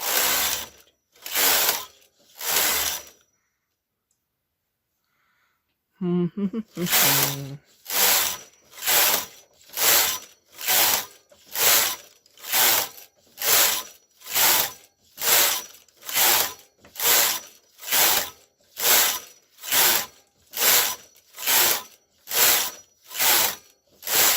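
A Brother KR850 knitting machine carriage slides back and forth across the main bed and ribber in a steady rhythmic series of loud ratcheting sweeps, broken by one brief pause near the start, with no talking.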